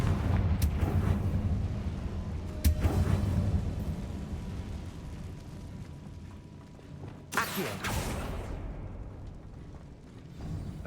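Confringo fire spell cast in the video game Hogwarts Legacy: a few sharp explosive bursts over a rumbling, busy game soundscape, moderately loud, with no voices.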